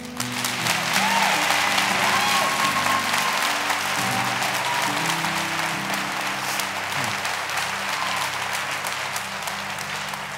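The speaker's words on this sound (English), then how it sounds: "Church, I'll let you clap for that." A church congregation breaks into sustained applause, a broad even wash of many hands clapping that fills the room, with a held organ or keyboard tone underneath.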